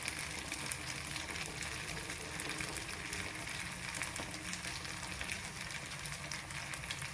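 Jackfruit neyyappam fries in ghee with a steady, dense hiss and crackle, a faint even sizzle running unbroken throughout with no voices.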